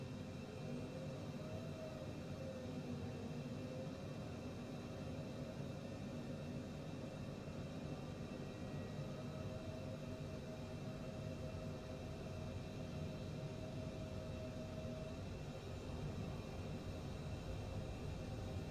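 Private jet engines in Microsoft Flight Simulator 2020 at the start of a Tampa to Atlanta flight, a steady, even mechanical drone that holds at a moderate level throughout with no voices.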